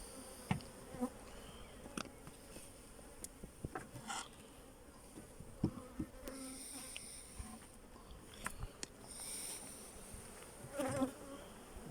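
Honey bees buzz around beehives during a honey harvest, a faint, continuous drone with scattered closer passes and soft knocks, heard at a distance without talk.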